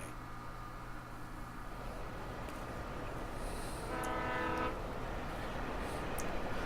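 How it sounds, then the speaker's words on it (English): A train runs in the video game Alan Wake, a low continuous rumble with a brief horn blast partway through, heard without speech. "And yet the train's still running, too."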